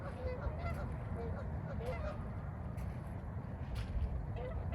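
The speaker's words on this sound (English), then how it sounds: "I like to listen to geese. Are they fighting?" Geese honk repeatedly, well off in the distance, their calls faint above a steady low rumble of wind or water.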